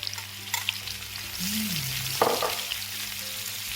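Steady sizzling of onions frying in butter, olive oil and steak juices in a hot de Buyer iron pan, with a sharp clatter partway through and a faint low hum beneath.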